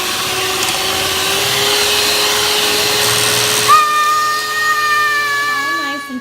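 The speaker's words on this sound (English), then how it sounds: "Beat the eggs until foamy." Electric mixer beating eggs until foamy, a steady whirring drone throughout with a pitch shift near the end, heard up close in a home kitchen.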